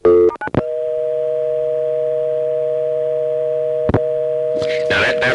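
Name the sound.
telephone dial tone on a 1A ESS Centrex line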